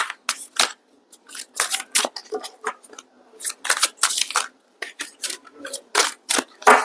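Near, brisk shuffling of a tarot deck, with repeated crisp card flutters and slides arriving in tight clusters and brief gaps, fairly loud and close by itself.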